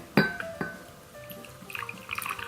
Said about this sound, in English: let's pour our tea